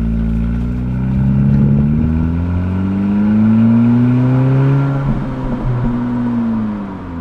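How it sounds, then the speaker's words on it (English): Engine of a 2017 Honda Civic Si, heard from inside the car, revs through smooth rising and falling pitch sweeps with a brief shift midway, loud and steady with no talk. "I like the noise coming from under the hood"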